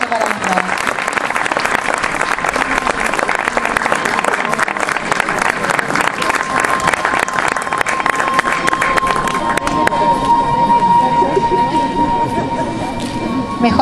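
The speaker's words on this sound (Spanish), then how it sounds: "Un aplauso para los dos" Applause and some cheering break out at a school awards ceremony for two students, loud and dense throughout, with a tonal hum entering partway through under the clapping.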